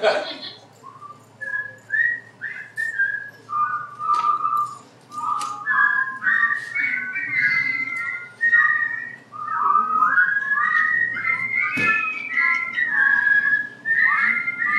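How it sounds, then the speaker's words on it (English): A crowd whistles along with a performer in a live comedic song setting, a long wavering melody of overlapping whistles that rises and falls in bursts across the whole stretch, fairly loud and continuous. "I would like you to help me whistle."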